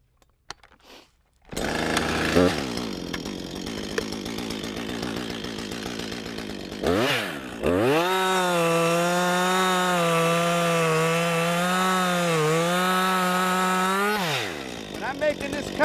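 A chainsaw cuts through a wood log: after a few quiet seconds and some handling noise, the engine revs up, bogs and rises as it bites into the wood, then holds a loud steady whining buzz before dropping off.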